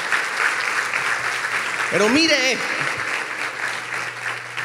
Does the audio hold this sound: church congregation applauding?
yes